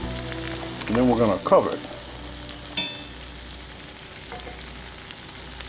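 Sausage sizzles and fries over very low heat in a cast iron skillet, a steady crackling hiss throughout with a brief stirring scrape and a voice speaking over it near the start.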